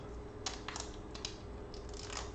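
A replacement home button on a 9th-generation iPad is pressed repeatedly to test it, producing several small, sharp clicks in an uneven rhythm that are close and faint over a quiet background.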